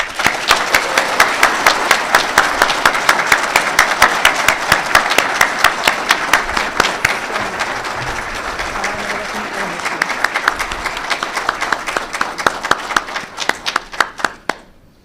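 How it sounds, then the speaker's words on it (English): Loud, sustained applause from an audience at a White House Communications Agency award ceremony honoring a Hall of Fame inductee, dense clapping that holds steady and then thins into scattered individual claps near the end. "please applaud our 2022 White House Communications Agency Hall of Fame inductee"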